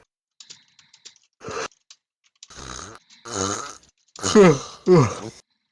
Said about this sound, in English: That was quite the yawn